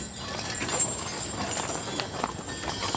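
Hooves of a 20 mule team clip-clopping steadily as they pull a historic wagon, a dense continuous patter of many hoofbeats at moderate distance with outdoor background noise.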